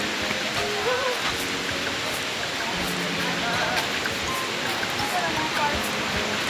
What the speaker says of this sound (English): And finally, this is the falls